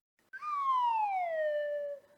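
A slide whistle glides smoothly downward in one long, continuous tone lasting nearly two seconds, close and clear with no talking over it.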